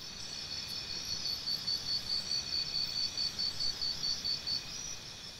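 Cicadas sing in a steady, far-carrying shrill drone, with a rhythmic pulsing chirp repeating about twice a second through the middle, moderately faint with no voices.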